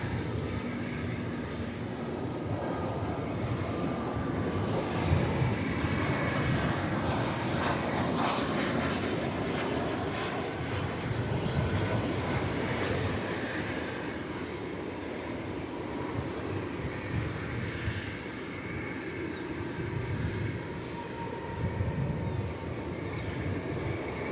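An arriving flight from SLP sends a long, steady aircraft engine rumble across the airport, moderately distant with a faint swelling roar.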